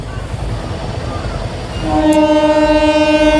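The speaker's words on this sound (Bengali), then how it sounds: "দেখ ট্রেন আসছে। আওয়াজ পাচ্ছিস?" A train approaching on a railway line, a rumbling roar that swells and then a loud sustained horn blast joins it partway through, close and dominant.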